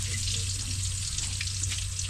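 Hotdogs fry in a pan with a steady, close, continuous crackling sizzle and a low hum underneath, with no talking.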